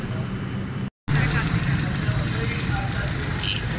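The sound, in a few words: Honda City 2000 car engine started and idling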